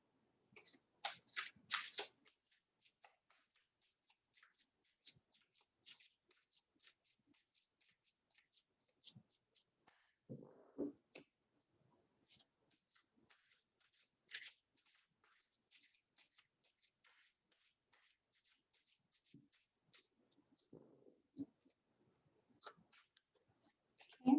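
Tarot cards are shuffled and handled during a reading in short, soft riffling bursts separated by quiet gaps, with faint murmured speech now and then.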